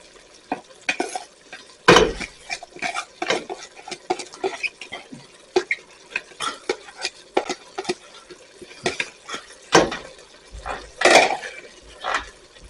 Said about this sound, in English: We're going to stir these in, and we're going to cook the onions till they're until they're translucent.